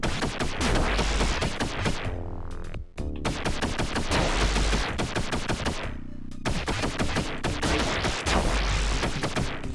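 Rapid gunfire from the side-scrolling game B.O.B., dense repeated shots over a busy music bed, loud and continuous with two brief breaks, no voices.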